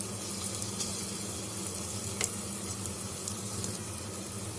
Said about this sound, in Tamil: பச்சை மிளகாவையும் நல்லா வதக்கி விட்டுருவோம்